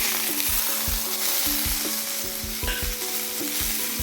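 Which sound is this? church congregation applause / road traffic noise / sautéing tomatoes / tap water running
sautéing tomatoes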